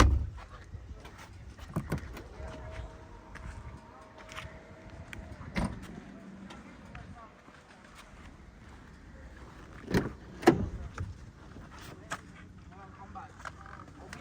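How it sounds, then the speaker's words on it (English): An electric window motor on a BMW 2 Series Gran Tourer 220i M Sport whines steadily for a few seconds, followed by a couple of louder thumps, amid soft interior cabin noise. "Comes with 4 electric windows"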